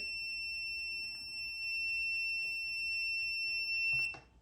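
A timer beeps with a steady, high electronic tone at the end of a sublimation heat transfer, sounding continuously and loud before it cuts off abruptly.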